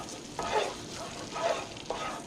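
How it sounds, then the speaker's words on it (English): A spoon stirs salmon in a sizzling pan of butter and liquid smoke, three distinct scraping strokes over a constant soft frying hiss, close and moderately loud. "Give this one more stir."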